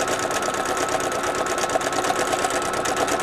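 A sewing machine stitches a zipper pouch at a moderate, even pace, its motor humming with a rapid steady needle chatter, close and continuous throughout.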